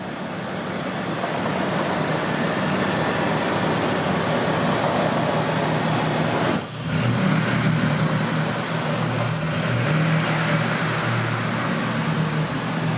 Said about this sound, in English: We're going to give it a couple of revs for you.